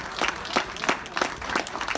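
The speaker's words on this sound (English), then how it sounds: "Let's give him a round of applause." A small audience claps at a community farewell gathering, a steady patter of hands that rises and dips in waves, fairly close and with no voices over it.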